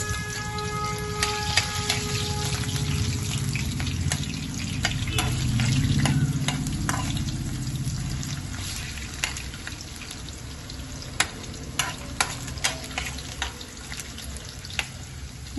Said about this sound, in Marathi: त्याच्यामध्ये मी आधी घालणार आहे बटाटा. तो थोडा आपण तेलावर फ्राय करून घेऊयात